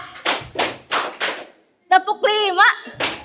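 Group of people clapping in counted claps: four sharp, evenly spaced claps, then a voice speaking over a pause, then another single clap at the end.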